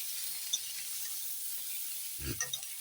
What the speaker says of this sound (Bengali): আলু বেগুন ভাজা হচ্ছে